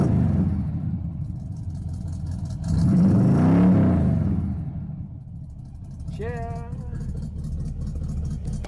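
Pontiac car engine idling after a cold start, a steady low rumble that swells once as a vehicle passes close by, then settles back, with a voice briefly heard near the end.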